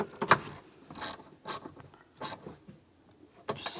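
Clicking ratchet strokes tightening the outside mirror fastener on a 2015-2019 Lincoln MKC, several short bursts of ratcheting spaced by brief pauses, close and moderately quiet.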